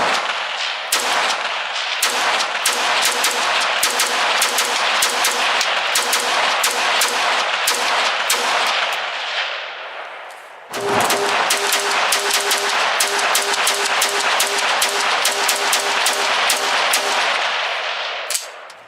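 A Swiss SIG SG-551 long-barrel rifle firing rapid, evenly spaced shots on a range, loud and close, in two long strings separated by a brief pause.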